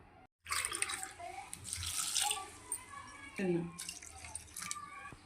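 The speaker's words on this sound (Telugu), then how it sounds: "దీంతో ఇంచుమించు రెండు గ్లాసుల వరకు నీళ్ళు పోసుకున్నాను" Water pours into a pan of jaggery in a home kitchen, a steady splashing stream with a brief gap near the start, while someone talks over it.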